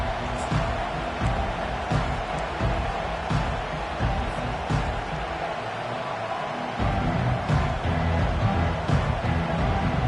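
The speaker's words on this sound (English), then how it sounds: "This crowd trying to show them what it's going to be like all day in this house." Broadband roar of a college football stadium crowd during an NCAA game, steady and loud throughout with a brief dip near the middle before surging back.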